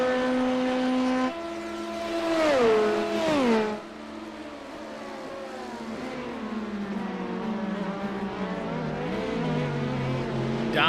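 A race car in a Le Mans sports car racing video game gives a loud high engine whine that shifts pitch as it changes gear, then drops as it brakes hard into a corner, with other engine tones underneath.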